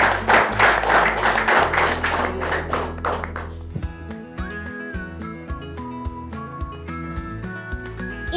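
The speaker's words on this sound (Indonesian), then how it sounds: "Tepuk tangan untuk Kinansang dan Lalasang" Classmates clap briefly in a Japanese-language lesson, about three seconds of clapping that gives way to a sustained musical jingle with held tones.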